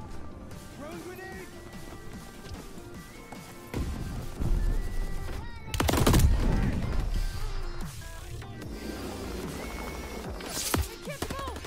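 Heavy gunfire and explosions in Call of Duty Vanguard, with thudding blasts and crashes under shouted in-game voices. The loudest barrage comes in the middle of the clip.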